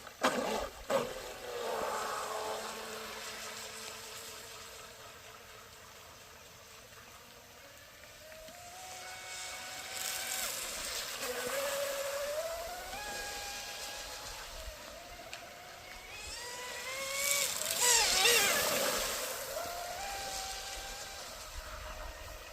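A Triple S motor on an SSS Shrimp outrigger RC boat with a carbon canopy runs in the rain, its whine rising and falling in pitch as it speeds up and passes, moderately distant and mostly alone.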